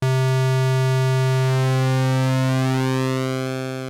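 Square-wave synth tone from Arturia Modular V software held as one steady loud note, its timbre slowly shifting as the pulse width changes, with a faint sweep of upper harmonics and no other sounds.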